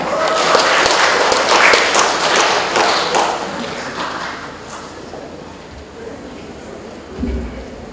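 Audience applause at a Halal Bihalal gathering welcomes Ustadz Haji Ahmad Muzaki, a dense spread of clapping that is loudest early and slowly thins over several seconds, with a murmur of voices and a low thump near the end.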